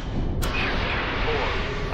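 Torpedo launch from a submarine in Cold Waters, a deep, rumbling whoosh that stays loud and steady across the whole moment, with a voice speaking under it.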